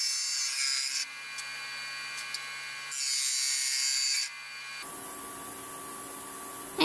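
A Vevor bench grinder reshapes a bowl gouge to a 40/40 grind, a high whine and hiss from the wheel rising and falling over several passes against a steady motor hum, with no voices.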